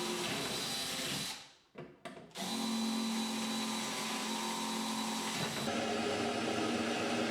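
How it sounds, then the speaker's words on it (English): A power drill with a brad point bit whirs loudly and steadily boring through a chipboard kitchen base unit, cuts out briefly for a second, then grinds on at a constant pitch. "I'm using a brad point bit to drill a hole through the carcass"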